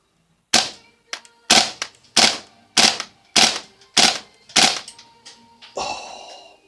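A Krytac Kriss Vector airsoft gun firing in burst mode, with eight sharp, crisp cracking bursts in an even rhythm, loud and close, followed by a brief mechanical rattle, and no speech.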